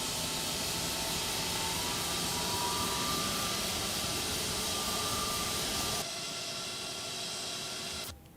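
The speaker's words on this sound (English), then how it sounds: "Those engine sounds are wow." A Toliss A320neo's jet engine in X-Plane 12 runs up as a loud, dense, steady roar with a thin whine layered on top, then drops abruptly to a quieter hum before cutting out at the end; no one talks.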